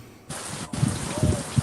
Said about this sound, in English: I could hear the rain